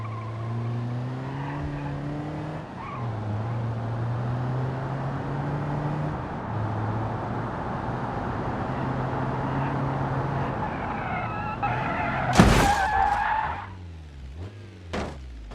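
A van in the BeamNG Drive driving game revs along with a steady engine drone and tire noise, then slams into something near the end with a sharp crunching impact followed by clattering debris.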